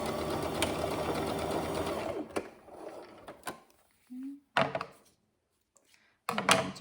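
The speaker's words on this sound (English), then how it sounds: "we're going to sew straight across that" A sewing machine stitches straight across a zippered pouch in a close, steady run of about two seconds, then stops, followed by a few scattered clunks and brief handling noises.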